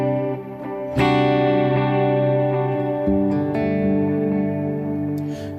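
An electric guitar runs through a Line 6 Helix reverb set to 200 ms pre-delay, so plucked notes and chords ring out clearly before a wash of reverb swells in behind them. The sustained tones are loud, alone and without voices.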